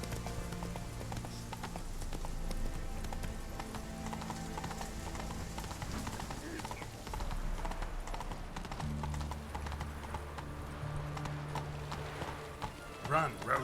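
Roach, the horse in The Witcher 3, gallops in quick rhythmic hoofbeats that run steadily throughout, with game music and ambience underneath and a brief louder clatter near the end.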